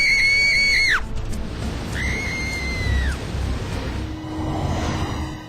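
A woman screams in panic aboard a cross-channel ferry as the ship suddenly jolts and lurches; two loud, high, wavering shrieks ring out over a rumbling, noisy background, followed by a lower fading wail.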